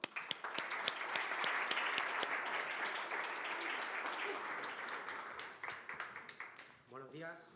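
An audience at a university forum presentation applauds to welcome two speakers, a full, sustained round of clapping that gradually thins into scattered claps before a voice begins speaking near the end.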